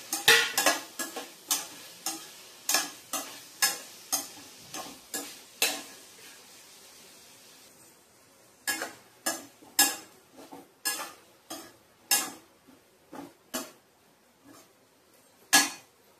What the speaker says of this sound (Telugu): పన్నీర్ కొంచెం వేగాలి. చూసారు కదా, ఇలా పన్నీర్ వేగిపోయింది.